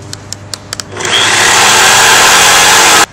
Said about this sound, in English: you're ready to go ahead with your jigsaw